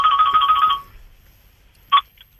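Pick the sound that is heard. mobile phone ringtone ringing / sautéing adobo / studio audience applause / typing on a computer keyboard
mobile phone ringtone ringing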